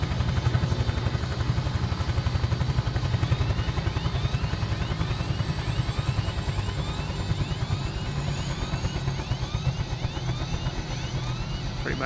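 A simulated Bell UH-1 Huey's rotor beats in a fast, steady rhythmic chop during an autorotation flare, loud and continuous with a faint turbine whine above, steady throughout.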